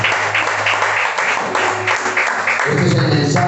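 A church congregation gives a loud round of applause to Christ, with rhythmic, close clapping that is dense and loud throughout, and a low rumble swells near the end.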